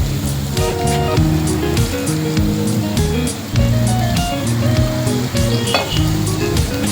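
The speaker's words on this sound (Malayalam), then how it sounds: "ഇതിലേക്ക് നമുക്ക് തക്കാളി ചേർത്ത് കൊടുക്കാം." Tomatoes sizzle and fry loudly in a hot pan for a dry fish roast, a steady crackling hiss with bursts of stirring and scraping throughout, close and continuous with no talking.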